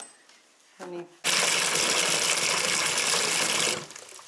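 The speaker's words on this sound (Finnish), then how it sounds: "Ja sitten lisätään vesi." Water gushes steadily into a container for about two and a half seconds, loud and close, while a horse recovery drink is mixed; a short spoken phrase comes just before.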